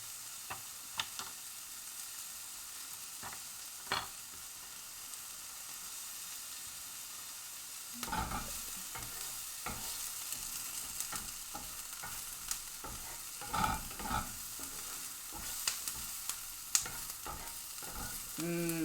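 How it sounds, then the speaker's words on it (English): Beans simmering in a pot, a quiet bubbling hiss that grows busier halfway through as a spoon scrapes and knocks around the pot in uneven strokes. "Stir my beans. Oh, good. Yeah, this is back to simmering now"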